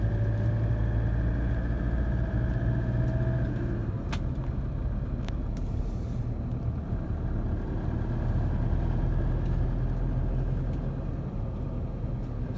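An International Scout with a 1KZ turbo diesel engine and electric throttle drives along with a steady, loud low rumble from the engine, holding an even drone throughout with a few faint clicks and knocks.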